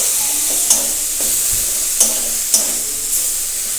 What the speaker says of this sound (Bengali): নাড়াচাড়া করে খুব সুন্দর করে কিন্তু ভাজতে হবে।